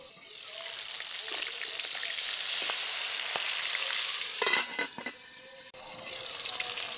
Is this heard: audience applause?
no